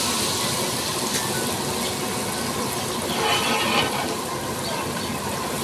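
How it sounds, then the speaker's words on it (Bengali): Dhoka lentil cakes go into hot oil and fry with a loud, dense, rushing sizzle that carries on steadily and swells briefly midway, with no talking. "তেল গরম হয়ে গেছে। ধোঁকাগুলো এবার সব দিয়ে দিলাম।"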